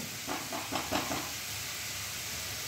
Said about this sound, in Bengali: এখন এই উপকরণগুলো আমি 5 মিনিট মতো কম আঁচে কড়াইটা ঢাকা দিয়ে একটু ভেজে নেব।